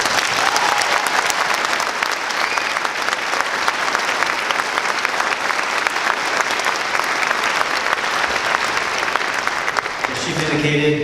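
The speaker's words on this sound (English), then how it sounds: "Let's give them one more round of applause." Sustained, loud applause fills a swearing-in ceremony for newly sworn police officers, a dense steady roar of many hands that fades out near the end.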